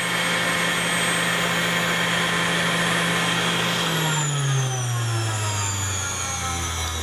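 Harbor Freight mini bench grinder running steadily with a loud, close whine and hum that drops in pitch partway through as the motor slows to a lower speed setting.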